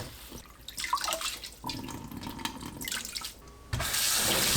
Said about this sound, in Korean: 바로 찬물에 헹궈주세요.